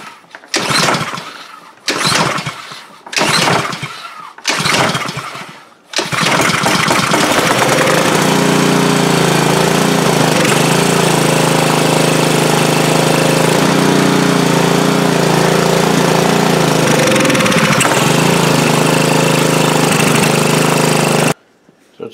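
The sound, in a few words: Honda GCV160 engine on Ryobi pressure washer running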